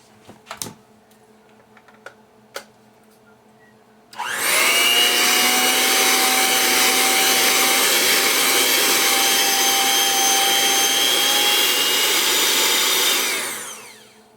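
Electric mixer whirring through birthday cake batter, switching on abruptly after a few faint knocks and running as a loud, steady high whine for about nine seconds before winding down.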